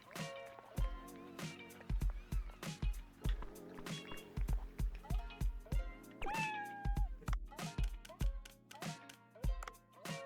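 A cat meows in the video game Dave the Diver, a few short mewing calls set among a busy run of rhythmic plucked and thumping game sounds, quiet overall.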